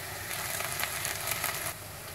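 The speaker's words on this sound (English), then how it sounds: "The onions for the pilau rice have browned slightly, so I'm going to put the ginger garlic frozen blocks in now." Onions browned for pilau rice sizzle steadily in a pan as frozen ginger garlic blocks go in, a dense, continuous frying hiss close up with no talk.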